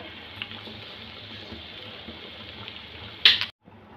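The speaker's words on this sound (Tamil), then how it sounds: "இந்த மாதிரி நல்லா கொதிக்கணும் நம்ம சாம்பார்" A pot of Karnataka-style idli sambar bubbles and sizzles steadily at low volume, then a brief sharp clatter cuts in near the end before the sound drops out.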